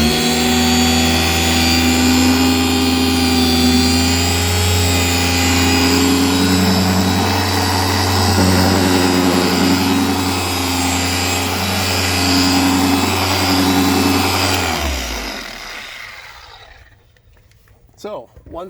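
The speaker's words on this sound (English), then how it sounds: "This is with just my drill." A cordless drill spins a wet pink polishing pad against a plastic car headlight, giving a loud, steady motor whine with a constant low hum that runs for about fifteen seconds before winding down and stopping.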